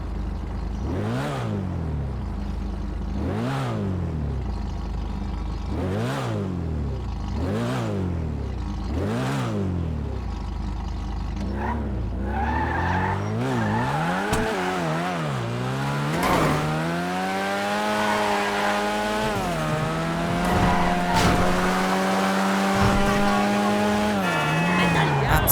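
A car in Grand Theft Auto V, from new DLC, revs in a series of rising and falling surges, then accelerates with a long climbing engine note as the tires squeal and skid loudly.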